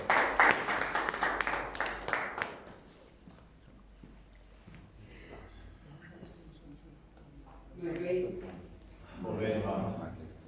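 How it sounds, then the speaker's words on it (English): An audience at an impact investing event in Africa applauds as a speaker takes the stage, a dense burst of clapping for about two seconds before fading into quiet room tone and a woman's spoken greetings. "Let's clap for her."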